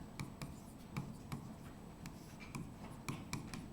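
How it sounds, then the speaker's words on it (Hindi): A teacher writes on a board during a Hindi-language child development lesson, giving faint, steady scratching strokes with soft taps at regular intervals in a quiet classroom. "अगला लिखेंगे"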